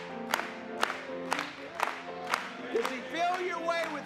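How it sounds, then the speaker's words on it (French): A congregation at a religious service claps along in a steady rhythm, with sharp hand claps at regular intervals alongside a singing voice and organ-like music. "Acclamons pour lui ce soir."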